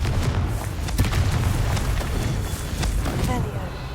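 Hogwarts Legacy's Confringo blasting curse detonates as a dense, booming explosion that rumbles loudly from start to finish, with a voice speaking over the blast.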